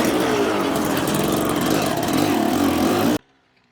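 Dirt bike engine roaring steadily at close range through a sweeping corner on a dirt track in Vietnam, loud and continuous for about three seconds before cutting off abruptly.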